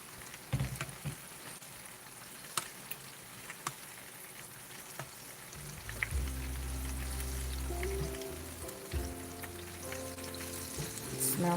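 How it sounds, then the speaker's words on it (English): Banana donuts frying in hot oil for a homemade dessert, a steady crackling sizzle with scattered sharp pops, growing fuller and denser toward the end, no talking. "just like frying banana donuts"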